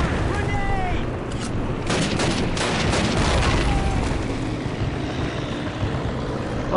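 Grenade blasts and gunfire fill a Call of Duty battle, a dense roar of shots and booms that stays loud and constant, with voices under it.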